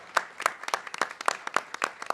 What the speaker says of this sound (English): Please give it up for Jessica, a round of applause.